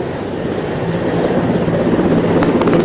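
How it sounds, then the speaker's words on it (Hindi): A helicopter flies overhead during election coverage in Chhattisgarh, a loud, steady rotor and engine roar filling the whole stretch with a rough pulsing texture. "तो मेरे पीछे हेलीकॉप्टर ही उड़ रहा है।"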